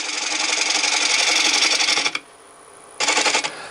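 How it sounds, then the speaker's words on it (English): A wooden bowl turned on a lathe with a 5/8 inch bowl gouge, giving a loud continuous rasping cut that drops out briefly to the lathe's hum before the cutting resumes, close up. "I'm going to start off with my 5/8 inch bowl gouge and just fairly gently turn this away"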